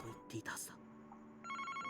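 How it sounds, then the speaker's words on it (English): A telephone rings in the Famicom Detective Club video game, an electronic ringing tone entering in the last half second after a short stretch of game sounds and talking. "Wait, the phone's ringing."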